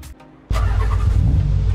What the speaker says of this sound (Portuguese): o som do motor é show de bola